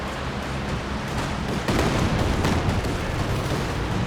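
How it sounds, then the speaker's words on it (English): Katyusha rocket artillery barrage in Company of Heroes 2, a dense, continuous roar of launches and impacts that thickens and grows louder partway through, with no talking over it. "Here comes the first Katyusha."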